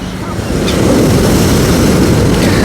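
Strong sea waves roll and break on the shore at Langeron beach in Odesa, a loud continuous roar of surf with wind buffeting the microphone throughout.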